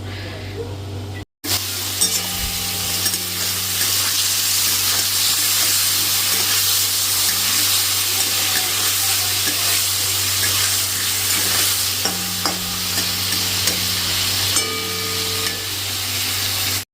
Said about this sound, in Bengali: দিয়ে পনিরগুলোকে খুব হালকা করে ভাজবো